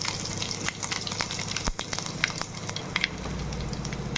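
Garlic sizzling in hot oil with mustard seeds and cumin in a home kitchen, a steady crackling fry with a low hum underneath and a few sharper pops and spatters, no voices.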